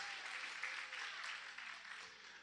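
Church congregation applauding loudly and steadily, a dense, continuous wash of clapping from a crowd filling the whole moment with no voices on top.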